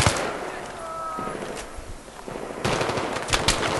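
A SAW machine gun in Battlefield 3 fires in long rapid bursts, loud and close, with a brief lull midway before another sustained burst, set amid game battle noise.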